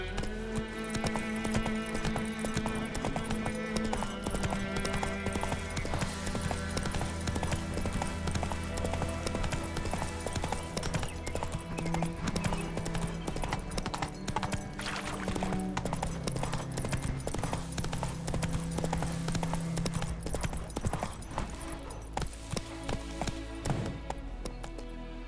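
Roach the horse in The Witcher 3 trots along with a steady, even clip-clop of hooves, close and continuous, set against a layered musical score and ambient game sound for the whole stretch.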